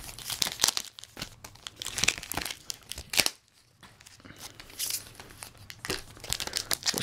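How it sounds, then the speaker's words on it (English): Glued Pokemon Black and White booster packs peeled off a cardboard-and-plastic blister pack give steady, close crinkling and tearing, with a brief quieter pause midway. "the three black and white packs, which I'll peel off the glue here"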